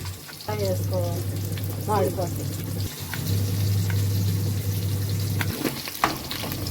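Onions and curry leaves fry in oil in a pan, a continuous sizzling hiss with a few stirring scrapes, while a voice speaks briefly over it and a steady low hum continues underneath.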